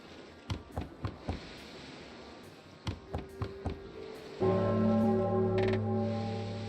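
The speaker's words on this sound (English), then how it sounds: "What was that? A bell? What is a bell doing on the sea?" A bell rings in an RPG Maker MZ horror game set on a long pier at sea: a run of sharp clicking taps, then a sustained, resonant ringing tone that holds steadily to the end.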